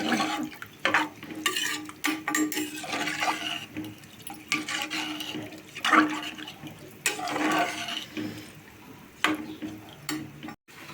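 Rice and water for veg biryani are mixed in a pot, with repeated wet swishing and sloshing strokes and occasional clinks, fairly close and with no talking.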